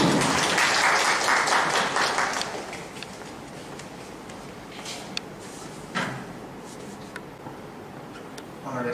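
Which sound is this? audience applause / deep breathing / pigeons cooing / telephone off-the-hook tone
audience applause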